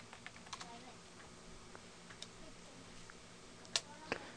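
Keys on a computer keyboard tapped in short, irregular bursts while a password is entered, close and fairly quiet with a few sharper clicks near the end.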